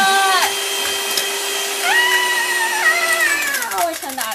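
An electric stand mixer whirs at high speed through chocolate chip crinkle cookie dough, a loud steady motor whine with pitch steps up and down; a voice is heard faintly under the machine.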